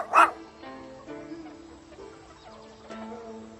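A dog gives a short bark or yip near the start, followed by softer whimpering and yipping sounds at moderate distance over a faint background.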